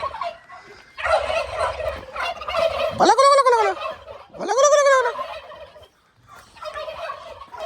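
Turkeys gobble loudly nearby, two strong rattling gobbles in succession amid softer clucking and chatter from the flock.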